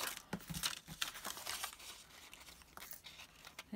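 Paper is cut for a handmade chocolate lottery gift, with faint crisp snips and papery rustling, closely miked and quiet, coming in uneven short strokes.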